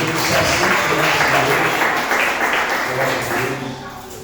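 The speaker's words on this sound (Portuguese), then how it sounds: "Dê uma grande salva de palmas para Deus." A church congregation at a Sunday service bursts into applause, steady clapping mixed with voices and cheers that hold for a few seconds and then ease off.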